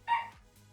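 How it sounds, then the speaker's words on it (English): A single sharp, excited bark from a pet dog indoors, brief and fairly close, trailing into quiet room tone. "Sorry, I left my door open and dog was going crazy."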